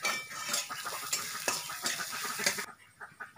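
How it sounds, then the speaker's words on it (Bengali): A green chilli and ginger paste is stirred in a frying pan over low heat. Quiet, busy scraping and clinking of a spoon against the pan come in irregular strokes over a light sizzle, and the sound stops near the end. "আবারও কয়েক সেকেন্ড নাড়বো।"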